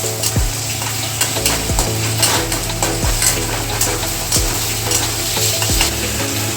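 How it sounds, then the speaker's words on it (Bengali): Paneer and tomato fry together in a pan for an aloo paneer dum, a steady loud sizzle broken by repeated scraping strokes of a spatula stirring at a regular rhythm, with no voices. "দেখতেই পাচ্ছ পনিরের সাথে টমেটোটা আমরা ভালো করে ভেজে নিচ্ছি।"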